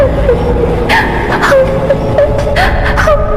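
A woman cries aboard a train, her soft wavering sobs and whimpers rising and falling over the steady low rumble of the moving carriage.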